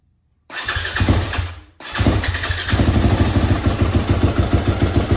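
A dirt bike engine fires up after a brief cranking attempt, stumbles for a moment, then catches and settles into a loud, steady, choppy idle as it warms up, close by with no speech.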